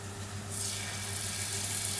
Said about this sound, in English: Hear the sizzle there.